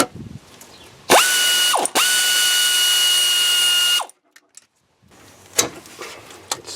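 A ratchet wrench works a 5/16 bolt off the EGR setup of a third-generation 1982–92 Camaro or Firebird TPI engine: a close, steady whirring ratchet run lasting about three seconds with one brief break, then a few faint clicks and handling noises.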